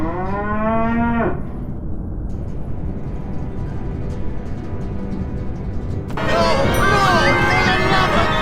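A cow moos loudly in the Sam & Max adventure game, a long, close, wavering low call, while a character speaks around it.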